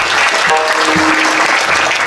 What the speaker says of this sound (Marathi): टाळी वाजवा जोरदार.